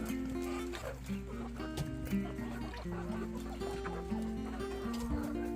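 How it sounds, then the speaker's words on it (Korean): A flock of chickens clucks busily while being fed bug-infested rice. The overlapping clucks and chatter are close and continuous, over a steady low background hum. "쌀을 갖다 닭에게 주다니"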